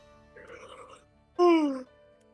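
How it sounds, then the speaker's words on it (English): A tired woman character in the strategy game Drop Duchy gives a short yawn-like groan, a faint murmur followed by one louder, sliding vocal moan about a second long, heard alone. "Big yawns for the tired woman."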